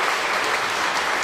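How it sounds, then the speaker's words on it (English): Dense, loud applause from a live show audience in a lounge-style comedy performance, a brief continuous burst of many hands clapping. "It's nice that we get 2 rounds of applause."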